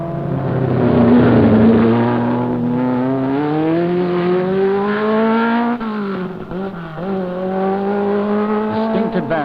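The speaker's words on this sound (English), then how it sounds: "Here he comes, 60 cubic inches of real power in that little engine." A Mini race car with a 60 cubic inch engine climbs the Knox Mountain hill climb course in Kelowna, BC in 1972. The engine whines loud and steady, its pitch rising and shifting as it revs through the gears.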